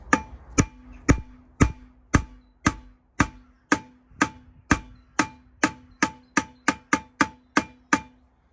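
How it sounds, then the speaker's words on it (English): Sharp metallic hammer blows strike a dented steel car wheel rim about twice a second, each ringing briefly, speeding up slightly toward the end. "I've got my trusty hammer. Just got to get the aim right and see if we can't bash it out."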